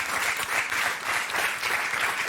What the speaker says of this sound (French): Bravo, bravo, on peut applaudir les Bravo.